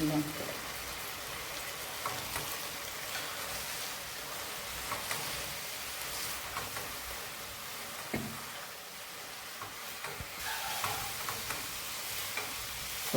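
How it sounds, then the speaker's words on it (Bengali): Coriander powder and turmeric fry in a pan with a soft, steady sizzle, joined by occasional knocks and stirring scrapes, with a faint voice at times. "হলুদটা দিয়ে একটু ভেজে নিয়েছি"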